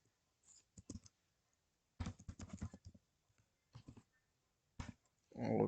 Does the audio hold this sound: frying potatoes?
no